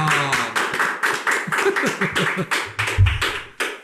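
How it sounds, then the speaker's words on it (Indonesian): Steady hand clapping, a series of crisp claps in a quick even rhythm, close and fairly loud, with a brief voice mixed in. "Tepuk tangan dulu dong."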